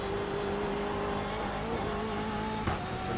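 A BMW M8 race car engine in the iRacing sim accelerates on the Detroit Belle Isle circuit, one steady rising drone that climbs gradually in pitch, loud and close, with a brief shift or blip near the end.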